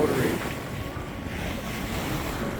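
Wind and rushing water at sea aboard a Beneteau sailboat heading into a headwind on a cloudy day, a steady broadband roar of gusts and surf with no voices.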